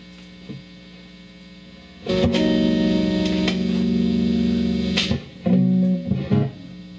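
An electric guitar solo recorded through a Zoom R24 with effects: loud sustained distorted notes and chords ringing with hum, a quiet start, then held tones broken by short gaps and a final burst, no talk.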